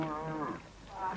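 A cow lets out a sustained, harmonic moo, rising and falling across the whole moment, with a second bellow beginning near the end; no talk over it.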